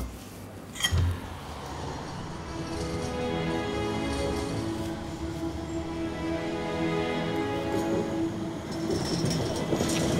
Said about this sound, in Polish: Mkną po szynach niebieskie tramwaje.